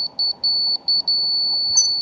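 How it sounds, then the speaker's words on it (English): A laser level mounted on a tripod at a concrete-forming job emits a high electronic beep, first in quick pulses and then a sustained solid tone, with faint site noise below. "Fast is high, slow beep is low, solid tone is"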